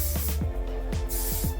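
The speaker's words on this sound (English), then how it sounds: "I have the strong Moroccan oil hairspray. I'm just gonna spray that a little bit" Strong Moroccan oil hairspray sprayed onto curled hair in a brief, close, airy hiss with a few quick pulses.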